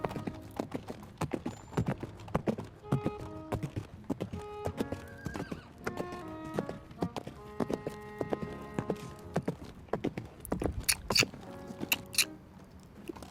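Hooves of a horse cantering in the Star Stable video game, a steady rolling clip-clop rhythm with occasional whinnies, layered over chiming game music, fairly close and clear.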